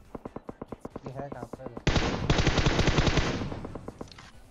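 Automatic gunfire in the mobile battle-royale game PUBG Mobile: a rapid string of sharp single shots, then a sustained loud burst of fast overlapping fire that slowly fades, with a voice talking faintly over it.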